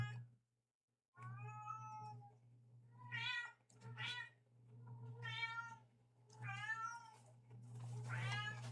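Domestic cat meowing repeatedly indoors, a series of clear, fairly close meows in uneven bursts over a low steady hum, with no talking.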